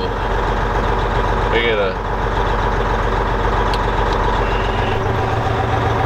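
A truck engine runs at idle with a loud, steady, rumbling drone that fills the whole clip, while someone briefly speaks over it.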